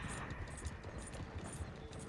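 Horse hooves pound in rapid, rhythmic clip-clop beats as riders give chase in the Red Dead Online video game, fairly faint and steady.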